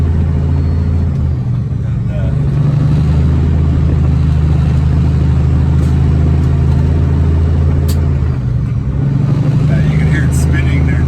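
Truck wheels spin on a slick road in the north while driving a haul, heard as a loud, steady engine drone with a low rumble and a rising whine near the end, with no one talking.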